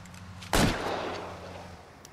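A single loud gunshot in the L.A. Noire video game, a sharp broadband crack followed by a long decaying reverberant tail over a low steady hum.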